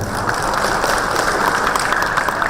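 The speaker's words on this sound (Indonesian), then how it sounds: "Tepuk tangan buat Bapak Ibu sekalian." Audience applause fills a hall at an eye-clinic lunch symposium during a medical conference: a loud, dense, steady wash of many hands clapping together, with no voices over it.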